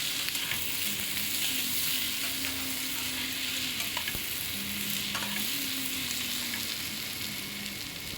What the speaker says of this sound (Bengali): এটাকে একটু ভালো করে নেড়ে নিচ্ছি, পোস্তটাকে মিশিয়ে নিচ্ছি ওলকপি আর আলুর সঙ্গে